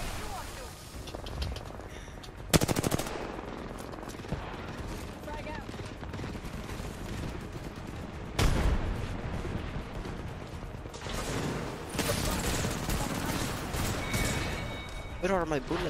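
Gunfire rattles in a match of Apex Legends, bursts of automatic shots and sharp blasts coming in clusters, loud and near, over steady in-game background noise, with players talking throughout.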